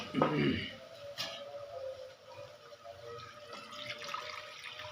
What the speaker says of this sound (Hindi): थोड़ा सा पानी इस्तेमाल करूंगी, क्योंकि टमाटर केड़ा अच्छी तरह गल जाए मेरा।